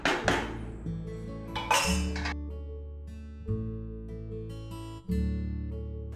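Metal lid set on a cooking pot during home curry preparation, several bright clanks and rings close by, each hit followed by a lingering metallic ring.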